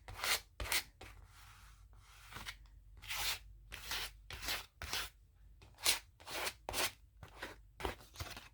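An old membership card scraped and rubbed firmly over a paper collage, a series of short, rasping strokes in an uneven rhythm, close and fairly quiet, with brief pauses between bursts and no talking.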